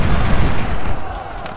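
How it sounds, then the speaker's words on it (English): Cannon fire from Civil War artillery loading canister shot in Ultimate General: Civil War, a dense, continuous rumble of booming blasts that stays loud across the short stretch without separating into distinct shots. "at the short distance they are at, they end up being able to use canister shot"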